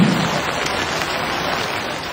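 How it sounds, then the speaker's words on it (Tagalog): Heavy rain with gusty wind in Ormoc, Leyte, a dense steady hiss of falling rain close to the microphone, loud and unbroken for its short length. "Ang malakas na ulan na sinabayan ng bugso ng hangin ang gumising sa ilang taga-Ormoc Leyte kanina."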